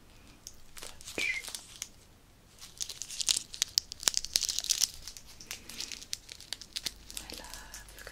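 Quality Street sweet wrappers crinkle and crackle up close in irregular bursts, with busier crumpling through the middle and quieter pauses between handfuls.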